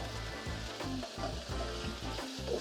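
Pork pieces brown in a hot frying pan with a loud, continuous sizzle close by, broken by repeated rhythmic stirring or scraping knocks and shifts, and no voices.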